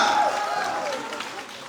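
An audience claps and cheers at the Boomerang trailer launch event, a broad wash of crowd applause that fades gradually while voices carry over it.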